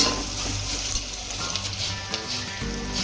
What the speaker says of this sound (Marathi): चांगला भाजून घ्यायचा पटकन कांदा